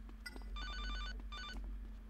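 A phone rings in Grand Theft Auto: Liberty City Stories as two bright electronic ringing bursts over a low steady game hum and soft background clatter.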